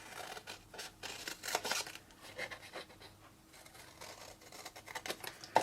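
Scissors cut sections from flowerpot designer series paper for a fold-flat window box, giving soft, close snips and rustling paper in irregular bursts, quiet and alone without talk.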